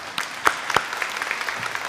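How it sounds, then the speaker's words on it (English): Audience applause at an award ceremony for a Newark civic champion, a steady patter of clapping from a hall crowd, moderately loud and continuous with a few sharper claps standing out. "give him a round of applause,"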